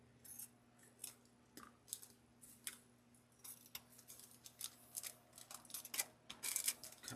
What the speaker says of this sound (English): Cutting up my ribbons